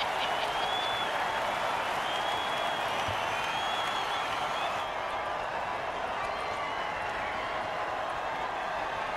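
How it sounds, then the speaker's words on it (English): Video game football stadium crowd cheering loudly after a defensive offside penalty on a punt, a steady dense roar with whistles and shouts running continuously at close range. "Oh, crowd's loving it."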